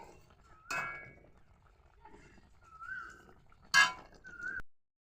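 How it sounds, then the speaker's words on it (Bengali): A spoon stirring an omelette egg curry in a metal cooking pot, with a few sharp clinks and scrapes against the pot, spaced apart and fairly close, separated by quiet gaps. "এবার একটু নেড়ে দেবো।"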